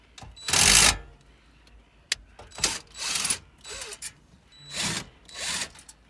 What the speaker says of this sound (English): We'll just unscrew those ones and take the unit off.